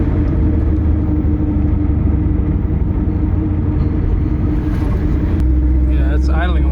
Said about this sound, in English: it's idling a lot quieter than it was before